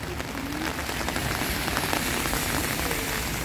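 On a street in Tokyo, rain falls in a close, dense, steady hiss of drops hitting the ground, unbroken throughout and with no talk.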